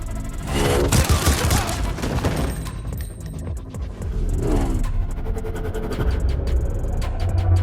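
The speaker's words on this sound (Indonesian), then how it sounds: "Satu persatu pasukan agensi dibuat saling menembaki satu sama lainnya." Dramatic burst of gunfire as agency troops shoot one another, layered with booms and rumbling impacts that swell and recede over several seconds in a loud, busy action scene without speech.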